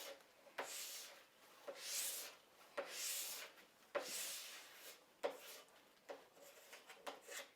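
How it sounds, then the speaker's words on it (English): Plastic scraper drawn repeatedly across a waxed classic cross-country ski base, each pass a short, soft rasping scrape with brief pauses between strokes, close and fairly quiet. "I'm just using my thumbs and the other fingers of my hand to kind of create a little bit of flex in the scraper"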